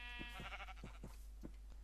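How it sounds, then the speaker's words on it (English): Sheep bleating in the Minecraft video game, with about five short, wavering bleats spaced unevenly across the moment, fairly close and clear over a faint steady hum. "Let's get a sheep. And another sheep."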